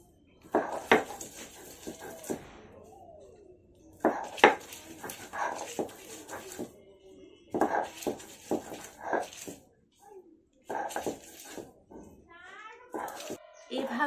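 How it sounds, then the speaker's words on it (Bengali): Pumpkin leaves being ground by hand on a stone slab with a stone pestle: rough, gritty scraping strokes in repeated bursts a few seconds apart, with a voice talking between and over them. "তাই একটু কষ্ট করে হলেও আমি শিলনোড়াতেই বেটে নিচ্ছি।"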